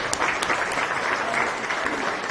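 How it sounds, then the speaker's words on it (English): Applause for the youth exhibitors at the O'Brien County Fair beef show, a steady dense crowd clapping that holds evenly throughout with a few sharper claps standing out. "Let's give those kids a round of applause."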